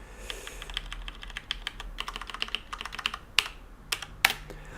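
Rapid typing on a computer keyboard, close up, with irregular bursts of sharp key clicks and a few louder clacks, heard alone without talking.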